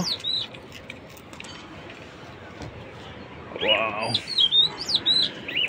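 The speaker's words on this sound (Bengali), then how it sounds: "তো আরও কিছু কবুতর দেই এর সাথে, দেখি আর কিছু কবুতর দেওয়া যায় কিনা" Pigeons kept for racing, heard as faint chirps and short coos with light rustling and flutter, rising in activity toward the end over a quiet, slightly noisy background.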